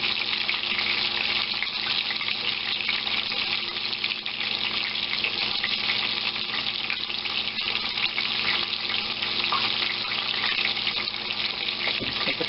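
Chicken Kiev sizzles loudly in hot frying oil, giving a dense, continuous crackle like steady rain that holds evenly for the whole stretch, up close with no voices.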